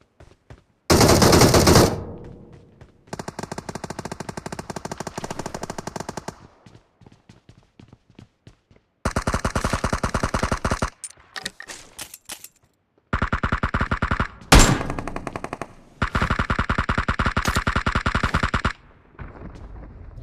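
Bursts of rapid automatic gunfire in PUBG Mobile, loud and close, coming in several long volleys separated by short pauses.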